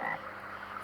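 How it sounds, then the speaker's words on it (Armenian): Frogs croaking by a riverbank, a brief faint burst of low raspy calls with no voices. "որ գորտերը կռկռում են"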